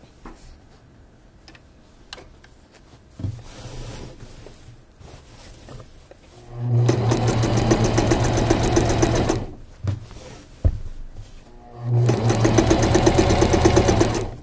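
A sewing machine stitches the crotch seam of a garment in two loud runs of rapid, even mechanical chatter, separated by quieter handling noises.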